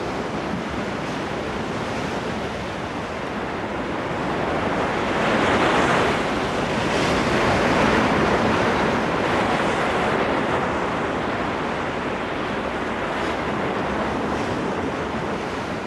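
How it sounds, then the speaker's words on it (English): Pacific Ocean swell and wind-driven waves surge and crash in a continuous wash of surf. A loud, broad rush swells briefly in the middle, with wind noise mixed in and no speech. "Driven by the wind over the wide Pacific, the swell builds."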